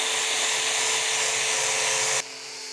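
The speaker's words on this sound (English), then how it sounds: "Wire wheel time." A wire wheel whirs steadily and loudly while scrubbing primer off a cast bandsaw frame during a restoration, a dense grinding hiss that cuts out abruptly with a quieter hum continuing afterward.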